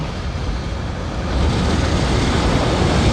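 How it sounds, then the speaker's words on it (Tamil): Wind blows steadily outdoors in hot, sunny weather before rain, a broad rushing roar that grows louder partway through and then holds, with no voices. "காற்று அடிக்குது."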